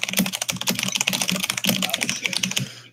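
Rapid typing on a computer keyboard during a Discord voice chat, a steady close-up clatter of keystrokes over a low background hum, with no talking.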